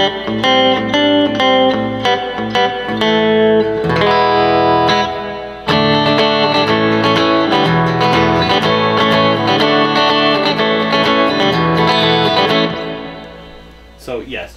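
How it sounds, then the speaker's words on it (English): A Roland JC-40 amp plays guitar through its digital spring-style reverb turned up high, a loud run of chords and single notes that ring out with a long, swimmy trail before fading near the end. "You can get some pretty swimmy reverb out of this thing."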